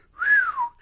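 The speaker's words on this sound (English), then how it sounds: "as she's leaving, Ocelot like whistles" Ocelot in Metal Gear Solid lets out a short wolf-whistle, one smooth rising then falling tone, clear and close, lasting under a second with no talk.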